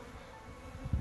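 Honeybees hum at the entrance of a double-queen nucleus hive, a close, steady buzzing drone that swells louder near the end.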